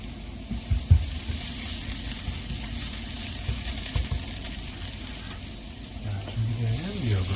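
Seaweed stems stir-fry in a pan of garlic and scallion oil, giving a continuous sizzle and hiss with occasional stirring scrapes and knocks, close up, and a faint low rumble late on.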